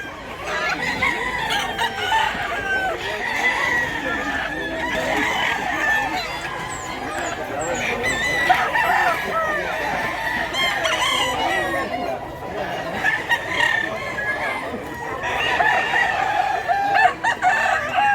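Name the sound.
roosters crowing and chickens clucking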